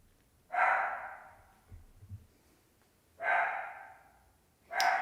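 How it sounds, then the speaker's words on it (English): Dogs bark outdoors in a sparse pattern: three separate loud barks spaced a few seconds apart, with faint snuffling or movement between the first and second. "I just want to go and see what these dogs are barking at."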